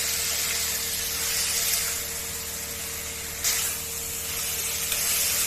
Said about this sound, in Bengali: তাহলে দেখতে পাচ্ছ আমি মশলাগুলো দিয়ে কষাচ্ছি